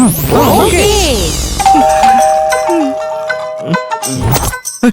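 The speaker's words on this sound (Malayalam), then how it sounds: "കോളിംഗ് ബെൽ അടിക്കുന്ന വിടറാ" In a dubbed Malayalam comedy action film, a house doorbell chimes in a clear ding-dong, heard with ringing tones and sweeping effects at the start and dialogue voices around it. The scene is loud and busy.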